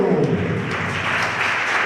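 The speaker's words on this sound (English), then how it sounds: "Somebody clap, clap, clap, clap, clap." Church audience clapping along at an African Christian gathering, a dense steady wash of many hands close by, sustained without pause and with no voices over it.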